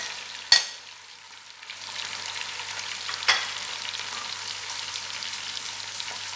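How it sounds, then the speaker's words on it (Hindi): Half a kilo of chicken pieces hit a pan of hot oil already frying with garlic and ginger, giving a sharp splash followed by a steady close sizzle, with a second brief stir around the middle. "लहसुन अदरक अच्छी तरह फ्राई हो गया तो अब मेरे पास ये आधा किलो चिकन है"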